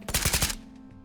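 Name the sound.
gunfire from a video game, firing AP rounds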